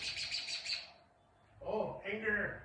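A bird nesting inside a shop gives a rapid run of sharp chirps, then goes quiet before a voice speaks nearby under further faint calls.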